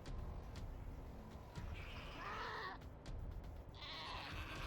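A hell goat bleats in the video game Wasteland III, two drawn-out cries standing out over a dense, steady game soundscape of battle ambience.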